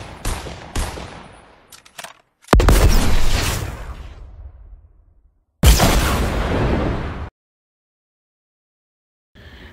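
Gunfire and a rocket blast from a Fortnite stop-motion battle: rapid rattling shots up front, then two loud, booming explosions that roar and decay for a couple of seconds each before cutting to silence.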